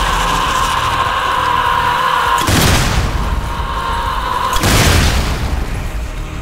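Two frag grenade blasts in the video game Zombie Army 4, each a loud, deep boom with a rumbling tail, spaced about two seconds apart over a steady background hum.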